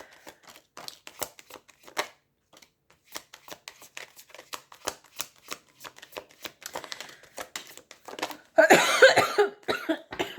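Tarot cards being shuffled in a run of quick papery riffles and taps, ending in a louder, denser flurry of card noise near the close, with no one speaking.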